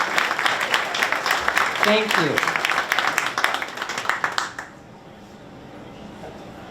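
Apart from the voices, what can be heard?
audience applause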